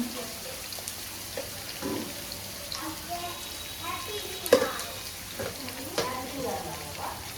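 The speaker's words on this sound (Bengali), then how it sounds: "আর টমেটো, রসুন, লঙ্কা এগুলো দিয়ে মশলাটাকে ভালো করে ভাজবো" Masala of tomato, garlic and chili frying in a pan, a low steady sizzle with occasional stirring scrapes and a sharp clatter midway, with faint background sounds.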